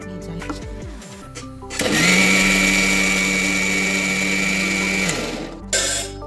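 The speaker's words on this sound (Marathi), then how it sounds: "आणखीन एकदा हे मिक्सरला फिरवून घ्यायचं आहे।" Electric mixer grinder whirring as it blends chikoo juice with milk, starting up with a sharp rise into a loud, steady motor whine that holds for about three seconds before cutting off, with brief clatter before and after.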